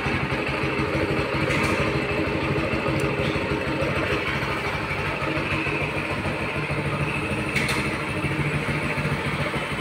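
A TVS XL100 Comfort moped-style motorcycle with a quiet touch self-start runs at a steady idle throughout, a low even engine putter held close and constant with a few faint clicks, no voices.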